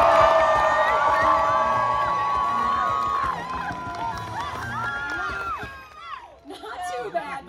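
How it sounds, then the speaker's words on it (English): An arena audience at the Animal Actors show at Universal Studios Hollywood cheers loudly for Cooper the terrier, with shouts and whistles that fade into scattered calls near the end. "I need you to cheer on Cooper as loud as you can"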